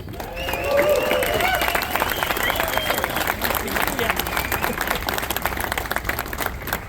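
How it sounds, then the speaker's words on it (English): A rally crowd claps and cheers, a dense burst of applause that peaks early and stays steady, with shouts and chattering voices mixed through it. "So give yourselves a round of applause"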